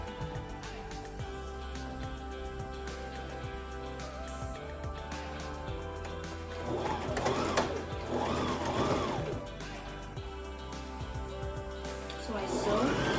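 Sewing machine stitching a fabric face mask, a steady close mechanical whir that speeds up in the second half, with someone talking over it.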